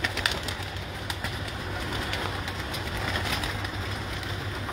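Pigeons coo softly in a loft, a low steady murmur running throughout beneath faint background noise and occasional brief chirps, with no talking.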